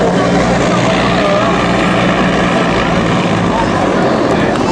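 Military transport aircraft at the Wings Over Illawarra airshow throwing its propellers or engines into reverse thrust, a loud, steady broadband roar that fills the whole moment without letting up.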